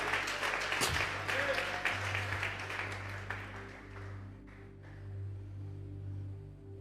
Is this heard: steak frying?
no